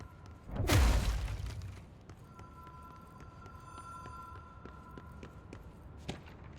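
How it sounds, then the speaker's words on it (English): In the video game Control, a telephone rings with a faint, steady electronic tone lasting a few seconds. It follows a heavy thud and is set against a quiet, hollow room ambience. "I hear the phone."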